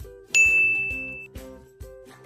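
A notification bell sound effect rings once as a bright, clear ding with a long ringing tail, followed by a few softer chime tones.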